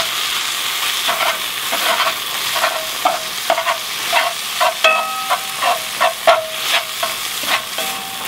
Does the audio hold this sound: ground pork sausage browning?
yes